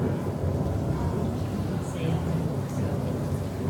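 Steady rain and rumbling thunder from the storm effect in Disney's Carousel of Progress attraction at Walt Disney World, a continuous dense wash of noise with faint voices mixed underneath.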